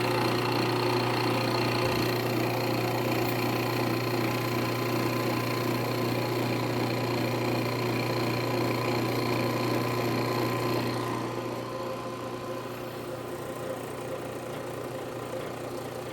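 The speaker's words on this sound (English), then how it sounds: "And now we are going to turn on the pump, open it up for vapor" A vacuum or recovery pump runs steadily on a 1997 Volkswagen Passat's AC system, a close, even mechanical drone with a constant hum; the sound drops noticeably in level partway through and continues quieter.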